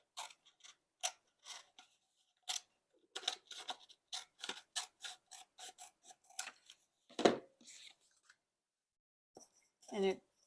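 Scissors cutting around craft material for faux cotton candy: a rapid series of small, close snips and clicks in irregular bursts, alone in quiet surroundings.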